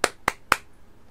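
Three crisp hand claps ring out in quick, evenly spaced succession, close and alone, fading into near silence.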